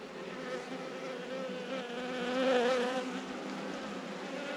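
Honeybees buzz steadily in a dense, close swarm during a beehive inspection, a continuous droning hum that swells slightly midway with no voices over it.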